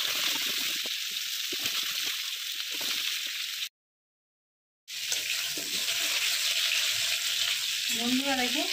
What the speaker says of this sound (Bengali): সবজিগুলো ভাজা ভাজা করে নিয়েছি